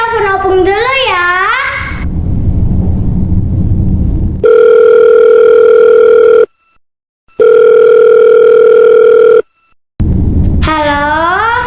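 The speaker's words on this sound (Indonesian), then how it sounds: "aku telepon Opung dulu ya" A telephone dial tone sounds as a call is placed, two steady loud bursts of about two seconds each separated by silence, framed by a voice talking before and after.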